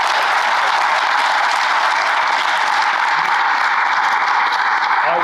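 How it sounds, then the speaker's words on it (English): Conference audience applauding steadily for about five seconds, a dense, even wash of many hands clapping with no break. "let's give another round of applause."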